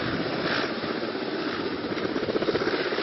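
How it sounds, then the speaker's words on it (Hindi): A helicopter roars steadily overhead during an NSG commando drop operation, its rotor and engine noise loud, continuous and dense throughout, with no speech. "एनएसजी के कमांडो हेलीकॉप्टर के जरिए कैसे ड्रॉप किए जा रहे"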